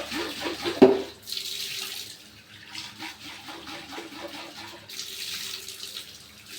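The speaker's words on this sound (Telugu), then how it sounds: "దీన్ని నీట్గా నీళ్ళు పోసి కడుక్కోవాలి" Water pours and splashes over a part of an Aqua water purifier filter being rinsed, a close running-tap gush with a sharp clunk near the start and fluctuating flow.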